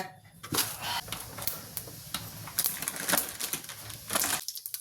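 Mustard seeds sputtering and popping in hot cooking oil while broad bean curry is prepared, giving a dense run of sharp crackles and pops close by with no talking.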